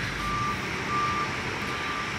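Reversing warning beeps from a 40-ton truck, three steady tones repeating at an even pace and carrying loudly over a constant background of traffic or engine rumble, with no voices.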